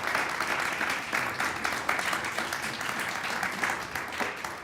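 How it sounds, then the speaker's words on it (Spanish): An audience applauds guests at a literary talk on Roberto Bolaño, dense steady clapping that holds evenly throughout without any voices over it. "Les pido un aplauso, por favor"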